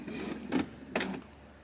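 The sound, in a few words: Epson EcoTank ET-2810 printer running ink initialization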